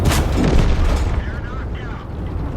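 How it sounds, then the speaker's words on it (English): A tank cannon fires in World of Tanks, one loud, close blast at the start that fades into a low rumble. "He's going to donk another shot off me."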